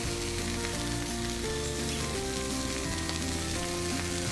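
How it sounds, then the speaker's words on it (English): Frozen burgers sizzling on a hot griddle make a steady, dense crackling hiss that runs unbroken throughout, with soft background music underneath. "There's the rest of those burgers on the griddle."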